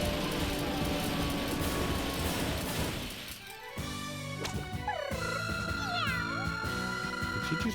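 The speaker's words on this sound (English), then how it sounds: "Did she just meow at me?" A cat meows in the video game Trails in the Sky the 3rd, short rising and falling mews over game sound effects and music, fairly loud and clear.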